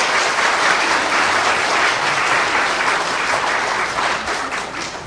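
A church congregation at a homecoming day service breaks into sustained, dense applause that fills the room evenly, easing off slightly toward the end.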